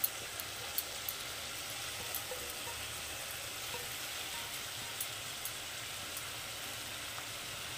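Washed, pre-fried mung dal sizzling in a spice paste in a pan, a soft, steady frying hiss with a few faint clicks of stirring, fairly quiet and with no voices.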